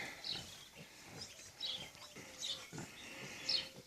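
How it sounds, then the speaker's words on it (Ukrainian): A sow grunts in short, repeated bursts close by, calling her piglets, low snorting calls coming every half second or so amid faint farmyard chirps. "Кличі, кличі льоха поросят."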